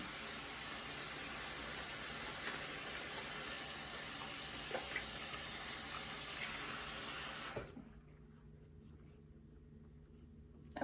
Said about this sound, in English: Brandon, I'm going to show you how we wash our hands.